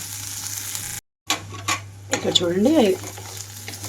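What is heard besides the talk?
onions frying in a pan with green chili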